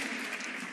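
Applause from the crowd in a snooker arena at the German Masters, a soft, steady patter of many hands clapping at a distance, faint and even throughout.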